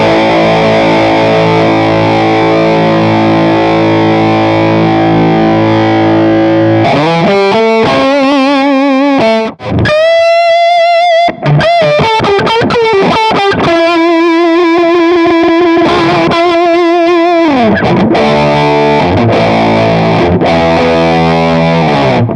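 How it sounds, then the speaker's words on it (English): Electric guitar run through the Metal DS distortion in a Kemper Profiling Amp, heavily saturated: sustained chords first, then fast riffs and bent held notes, loud and alone. "So what happens if we activate Metal DS now then?"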